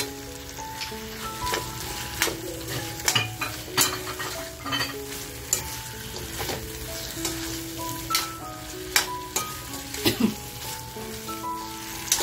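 Brinjal frying with masala and kokum in a pan gives a close crackling sizzle, broken by frequent metallic scrapes and clinks of a spatula against the pan, uneven and busy throughout with no talking.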